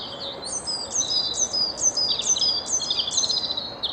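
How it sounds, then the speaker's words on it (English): Birds singing steadily near a church, a repeated high chirping phrase over and over against a soft outdoor background, fairly close and clear. "Listen to the bird song in here."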